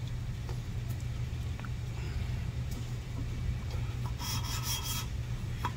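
An engine valve from a Mopar 360 is rotated against its seat with a lapping stick under light pressure, giving a soft, continuous gritty rasp over a steady low hum, with a brief brighter scraping burst near the end.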